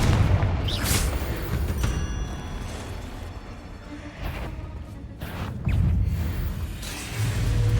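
Confringo blasting-spell explosions in Hogwarts Legacy, with booming blasts and whooshes layered over continuous loud combat noise, some bursts standing out sharply against the din.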